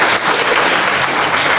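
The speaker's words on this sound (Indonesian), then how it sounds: "Kita beri tepuk tangan untuk kedua-dua." Audience at a married couples' seminar applauds, a loud, dense burst of continuous clapping close by that fills the whole moment without a break.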